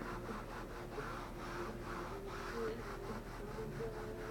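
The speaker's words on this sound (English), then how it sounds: "Gives time for the acetone to work as the scouring pad is going over it." A scouring pad soaked with acetone scrubs spray paint off a plastic car bumper, making a faint, steady, rhythmic rubbing with regular back-and-forth strokes, close up and without talk.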